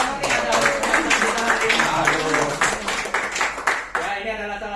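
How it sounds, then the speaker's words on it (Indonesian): Audience clapping at an indoor health product presentation, dense and continuous for several seconds, mixed with voices and some music-like tones underneath, then thinning out near the end. "Tepuk tangan dulu dong buat Pak Hartono nih"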